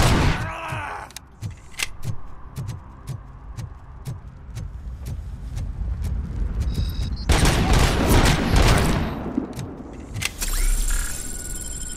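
Sniper gunfire in the game Robocop: Rogue City comes as a run of sharp, loud cracks at a steady rhythm, followed by denser bursts and booming impacts near the end.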